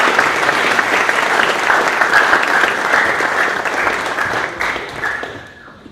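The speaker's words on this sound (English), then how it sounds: "Let's give him a round of applause." An audience at a board of education meeting applauds a retiring board member, with steady, dense clapping from a room full of people that fades out near the end.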